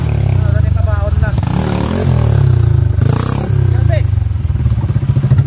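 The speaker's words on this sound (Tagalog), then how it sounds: "tambutso na lupit." A trail motorcycle engine drones loudly through its exhaust, holding a steady, throaty rumble with slight rises in pitch, while several people chatter and exclaim over it throughout.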